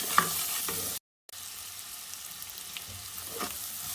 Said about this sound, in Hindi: अब हम लोग इसके अंदर ये सारी स्पाइसेस डाल देंगे और इसको भूनेंगे